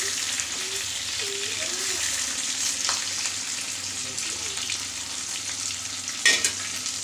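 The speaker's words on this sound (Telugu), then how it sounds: "ఇప్పుడు ఇందులో మనం ముందుగానే రెడీ చేసి పెట్టుకున్న మసాలా కారం అయితే వేసేసుకుందాం." Chicken fries with a pepper masala spice powder, a moderate steady sizzle with faint stirring sounds and a brief clatter near the end, without anyone talking.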